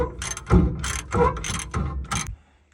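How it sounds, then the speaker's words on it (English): Ratchet tightening a castle nut on a KingKutter bush hog, five or six loud close rhythmic ratcheting strokes with a clicking pawl, then stopping to quiet. "So I can get my castle nut on."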